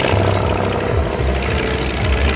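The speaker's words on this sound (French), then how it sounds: "Le Ryan PT-22," A Ryan PT-22 propeller aircraft at an air show in Merville, a loud, continuous engine drone with a throbbing low rumble.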